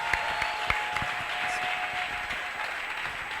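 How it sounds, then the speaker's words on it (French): Church congregation applauding for the Lord during a Sunday service, a steady wash of clapping with a few sharper claps near the start, sustained and fairly close, with no talk over it. "Acclamons très fort pour le Seigneur."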